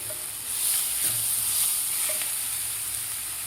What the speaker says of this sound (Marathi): 2 ते 3 मिनिट मी मसाला परतून घेतलेला आहे